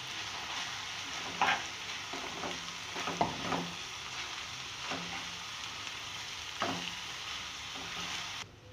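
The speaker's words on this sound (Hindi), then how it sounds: "और इसे डालकर भी मैं पहले मिक्स करूँगी अच्छी तरह से, फिर मैं इसे भूनूँगी।" Fenugreek leaves and minced meat stir-fry for keema methi, giving a steady close sizzle with several distinct scraping stirs of a spoon against the pan, no voices.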